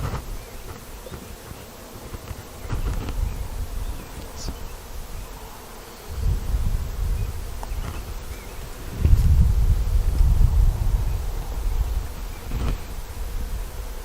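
Honeybees swarm around an opened backyard hive, their buzzing droning steadily and swelling louder in waves as they fly close, with no talking.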